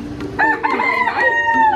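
A rooster crows nearby in north Bali, one loud drawn-out cock-a-doodle-doo rising and falling over soft background noise.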